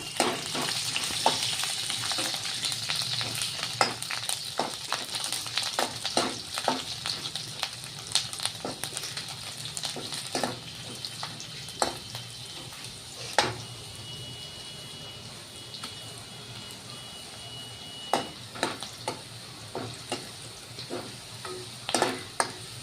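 Sliced peeled garlic sizzling in hot oil for a crisp okra dish, a steady loud frying hiss broken by frequent clinks and scrapes of a stirring utensil against the pan.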